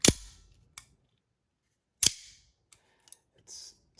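A Microtech Scarab 2 double-action out-the-front knife with an aluminum handle and DLC M390 blade firing open and retracting, sharp metallic snaps spaced about two seconds apart with lighter clicks in between, close and isolated.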